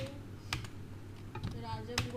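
A computer keyboard is tapped in a few scattered clicks at a quiet level, ending with a firmer press of the enter key. A voice can be heard faintly underneath.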